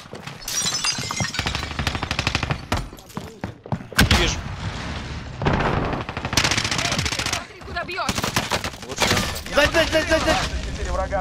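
Bursts of automatic gunfire and single shots crackle through a Call of Duty: Modern Warfare firefight, with thuds and breaking debris mixed in, while players talk over the loud, dense action.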